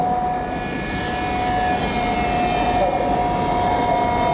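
A small autopilot-controlled fixed-wing plane flies with a steady, loud engine drone and a sustained tonal whine, continuous for the whole span with no talk over it.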